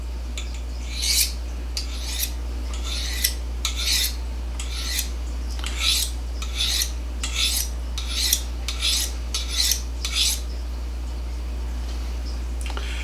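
Steel knife blade drawn across a sharpening stone at a steady angle, repeated rasping strokes about once a second, close and fairly loud over a constant low hum.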